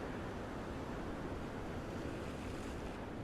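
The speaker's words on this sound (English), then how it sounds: "Water sounds nice." Water rushing over rocks on the Gold Coast: a steady, dense broadband wash of flowing water and surf, constant and fairly close, with some wind and no voices.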